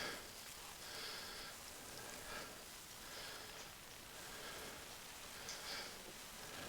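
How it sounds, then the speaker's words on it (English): Steady rain falling in a flight simulator at Athens airport, a continuous soft hiss of drops at even volume throughout, no voices. "and it's raining."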